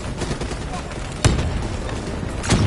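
A spike detonation goes off in the shooter video game Black Ops 3, two sharp explosive cracks about a second apart over a rumbling combat bed, with voices nearby.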